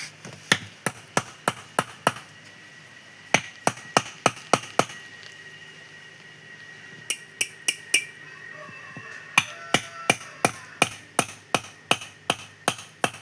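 Hammer strikes drive a nail into a homemade wooden spinning top, sharp loud taps in quick steady runs, with pauses between bursts.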